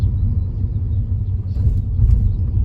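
Steady low engine rumble and road noise from inside a moving 2012 Hyundai with new sway bar end links, constant and fairly loud, with no voices or clunks.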